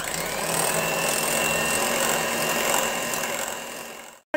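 Electric beater whips egg, sugar and vanilla essence in a bowl, a steady whirring drone running continuously before cutting off abruptly at the end.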